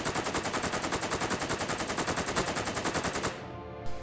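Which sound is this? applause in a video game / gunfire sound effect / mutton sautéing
gunfire sound effect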